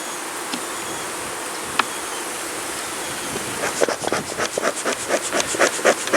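Honey bees from a freshly caught swarm buzz in a steady, dense drone inside an opened hive during inspection, and rhythmic pulsing bursts join in toward the end, close and loud with no talking.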